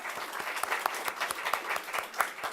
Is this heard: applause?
yes